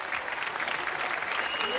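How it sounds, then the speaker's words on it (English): Residents in Spain applauding health workers from their apartment balconies during the crisis, a dense, sustained wash of many hands clapping heard at a distance across the street, with no talk over it. "Some Spaniards taking to their balconies to applaud health workers on the front lines of the"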